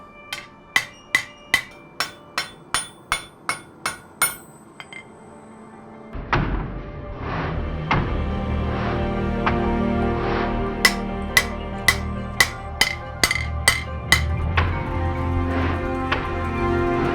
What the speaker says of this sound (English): what I'm doing now is hammering the bevels in